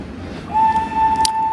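A train near the Comstock gold mill in Virginia City gives a single sustained whistle-like tone that starts partway through and holds steady over a low rumbling background.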